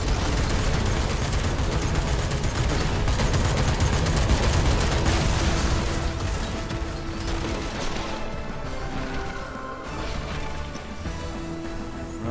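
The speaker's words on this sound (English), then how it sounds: "I'd like to see heavy go for him just to provide some suppressing fire." Mechs in the tactical game Phantom Brigade lay down suppressing fire: a dense, loud, continuous barrage of rapid gunfire and heavy impacts that eases slightly toward the end, with no talk over it.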